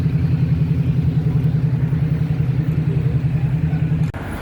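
A motorcycle passes along a street in central London, its steady mid-pitched engine drone holding loud and close for several seconds before cutting off abruptly near the end.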